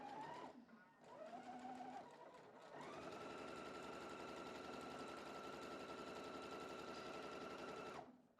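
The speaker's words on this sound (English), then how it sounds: "Starting to sew. I'll go needle down." A sewing machine stitches a quilt section with the needle set down, a steady close mechanical whir running continuously for several seconds after a brief start and stop.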